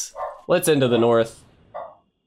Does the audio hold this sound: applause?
no